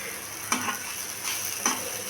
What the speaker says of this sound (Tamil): போட்டு நல்லா வணக்கிக்கலாங்க